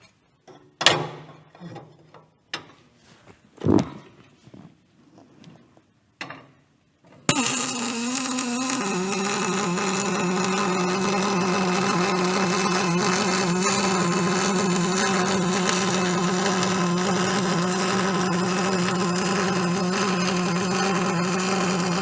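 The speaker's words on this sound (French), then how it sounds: "La soudure est terminée." Pulsed arc welding with an Aristo 500ix welding machine: a few clicks and short bursts, then a steady, loud buzzing arc that runs continuously to the end.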